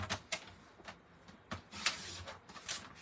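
Cardstock being cut for a card base at 4 1/4 inches along the 8.5 inch side, heard as several short, crisp scraping clicks at an uneven pace, fairly quiet and close.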